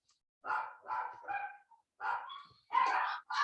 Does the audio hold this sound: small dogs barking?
yes